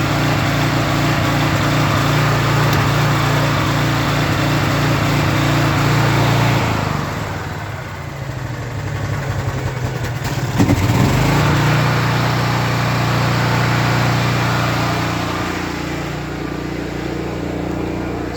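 Honda EM6500 generator engine running rough with the choke on, a loud steady drone that dips and surges briefly midway, heard close up without talk.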